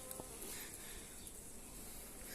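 A steady, dense insect buzz fills the clip, soft and continuous like many honeybees humming together nearby at a farm hive being inspected, with no voices.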